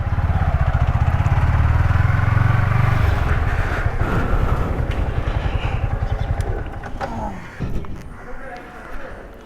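Royal Enfield Himalayan motorcycle, a loud close engine rumble with a steady low throb that fades as revs drop, followed by faint rattles and clatter, with people talking nearby.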